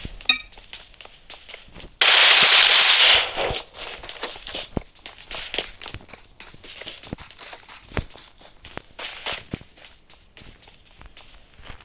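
Footsteps in a video game, the player moving through a multi-storey building, come as a steady run of close, crisp steps that go on for the whole stretch. A loud burst of noise breaks in briefly near the start.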